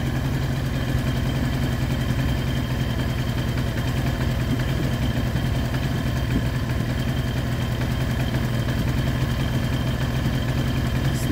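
A Baotian BT125T scooter engine idling steadily nearby, a constant even drone that carries on alone without talk throughout.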